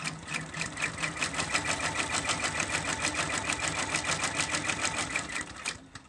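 Embroidery machine stitching an in-the-hoop design, a steady rapid needle rhythm running loud and close throughout before stopping just at the end.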